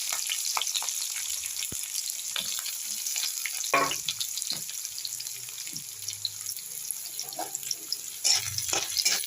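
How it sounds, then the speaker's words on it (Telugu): Onions and green chillies fry in two spoons of oil in a pan, a steady broadband sizzle running throughout with occasional clinks and stirring scrapes close by. "దీన్ని కాస్త రెడ్గా ఫ్రై చేయండి."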